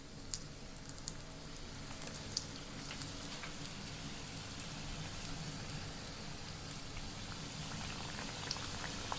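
Samosas, three at a time, frying in hot oil in a home kitchen, giving a steady, even bubbling hiss with scattered small crackles that holds for the whole stretch, close and fairly quiet with no talking.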